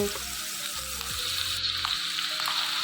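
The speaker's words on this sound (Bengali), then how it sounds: "এবার আমি তেলে পেঁয়াজ বাটা দিয়ে দিব" Onion paste frying in hot oil gives a steady, close, even sizzle that holds throughout, with a few soft stirring scrapes in the background.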